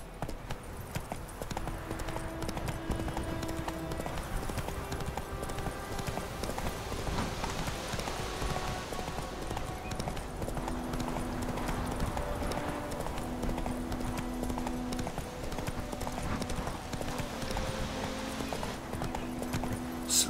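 Hooves of Roach, a horse in The Witcher 3: Wild Hunt, clip-clop in a steady walking rhythm throughout, moderately close, with game music and ambience beneath.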